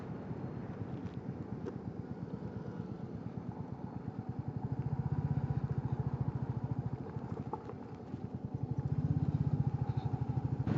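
A motorcycle cruises along an Indian highway, its engine a low, fast, even throbbing that swells and eases under steady wind rush, fairly quiet and with no speech.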